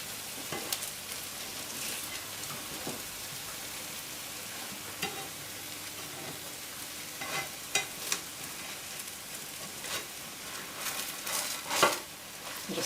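A sourdough pancake fries in an oiled pan with a continuous close sizzle and crackle, with light scraping and a few soft pan knocks; no voices.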